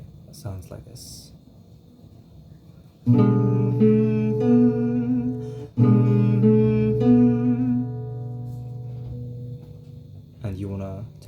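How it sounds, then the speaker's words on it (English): A short lick on an acoustic guitar: a run of ringing plucked notes that sustain and decay, played twice near and clear. Brief speech is heard before it and after it. "there's this a little bit of a lick here that sounds like this"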